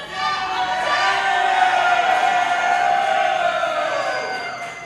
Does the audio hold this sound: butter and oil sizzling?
no